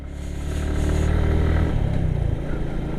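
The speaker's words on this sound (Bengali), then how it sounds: "বাইকের সেই একটা আওয়াজ করতেছে, কারণ অনেকক্ষণ ধরে কোনো রেস্ট নেওয়া হচ্ছে না" A Suzuki Gixxer SF motorcycle engine strains in first gear up a very steep hill road, a loud, close, labouring drone that swells and holds before easing slightly.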